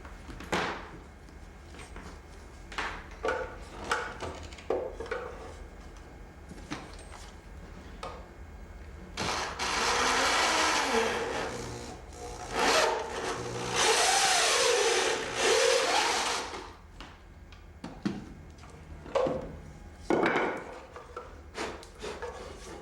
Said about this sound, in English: It's a 22 millimeter hole saw.